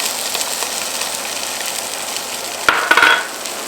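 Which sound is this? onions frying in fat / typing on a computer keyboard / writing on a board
onions frying in fat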